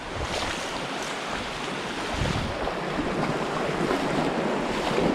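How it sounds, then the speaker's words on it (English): Steady wind gusting across the banks of the Rubicon River during a fly-fishing outing, a constant broadband rush with rumbling buffets against the microphone and no voices. "Now I've got a bit of a headwind today"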